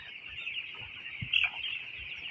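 Fourteen-day-old broiler chicks of a named hatchery company cheep and cluck in a poultry shed, a steady high chorus of many small birds with one brief louder call near the middle.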